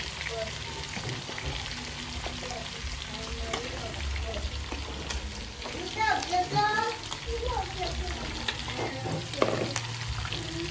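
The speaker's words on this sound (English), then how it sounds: "Weka onions zote zote, alafu koroge sasa." Onions sizzle and fry in a pot for beef pilau while being stirred, a steady crackling hiss with scraping stirs midway; people talk over the cooking.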